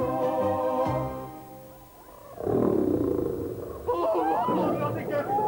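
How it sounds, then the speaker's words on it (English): A lion roars in a deep, rumbling swell that rises and fades, with a second growling burst following, loud and close over a busy, noisy background with voices. "Have you ever heard a lion roar?"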